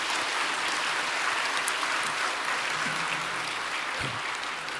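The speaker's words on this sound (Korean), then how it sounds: "우리 박수로 서로를 격려하도록 하겠습니다" A church congregation applauds in a steady, even wash of clapping that fills the room without pause, a low murmur faintly underneath.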